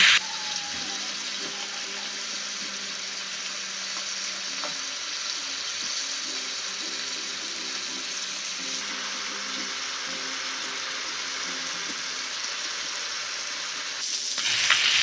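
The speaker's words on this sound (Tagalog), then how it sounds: "Antayin lang natin mag-brown ang manok mga mi." Pieces of chicken browning in a frying pan give a steady, close sizzle that runs unbroken throughout, with faint clinks and a low tonal hum beneath it and no one speaking.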